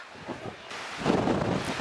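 Strong wind buffets the microphone at the Geysir geothermal area in Iceland, a rough, loud rushing that swells in gusts over a couple of seconds.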